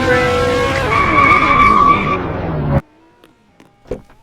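Loud tire squeal from a car drifting in the mobile game Car Driving Ultimate, a sustained screeching skid that cuts off abruptly, followed by a few quiet clicks.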